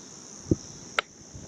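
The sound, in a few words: cricket chirping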